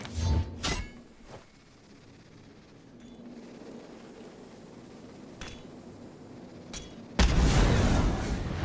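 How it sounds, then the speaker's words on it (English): Brimstone's molly incendiary launched in Valorant on the map Abyss: a short burst near the start, a few faint clicks, then a loud sustained broadband whoosh and sizzle in the final second and a half. "And you're just going to shoot the molly."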